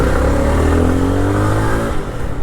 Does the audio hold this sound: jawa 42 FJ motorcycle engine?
yes